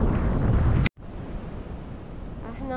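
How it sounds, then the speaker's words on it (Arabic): Strong wind buffets the microphone on Lagzira beach in Morocco, a loud roar that cuts out briefly, then continues with surf-like rushing and faint voices toward the end. "كيضرب واحد الريح شحال زوين"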